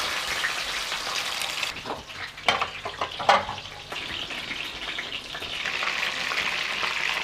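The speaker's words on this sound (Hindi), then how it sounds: "अब हम इनको शैलो फ्राई करेंगे" Chicken kulfi shallow-frying in oil in a pan over slow heat gives a steady, close sizzle, with a few louder pops and spatters midway and no talking.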